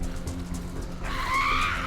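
A car in a video game rolls past with a rising whoosh and a brief tire squeal toward the end, moderately loud over a low game-world hum.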